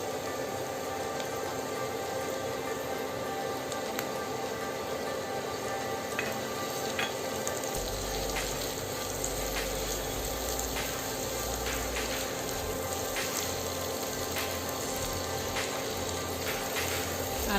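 Chopped onions frying with softened green beans and potatoes in a pan, giving a steady, dense sizzle that runs unbroken throughout, with a low rumble joining midway.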